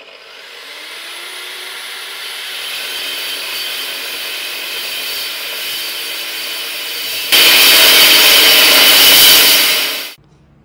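Steel bar cut for a shaft on a flail mower roller repair, a power tool spinning up to a steady whine, then a louder harsh grinding cut before it stops abruptly, close and loud, no talking.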